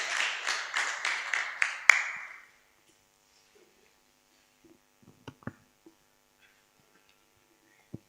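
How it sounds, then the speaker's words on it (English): An audience claps together for presenters at an entrepreneurship bootcamp at a vocational training centre. The rhythmic clapping is brief, ends sharply after about two seconds, and is followed by near silence with a few faint knocks. "We clap for them."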